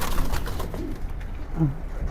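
Pigeons, including the parent birds of a red-necked pigeon in a breeder's loft, give a few soft low coos close by, under faint background murmur.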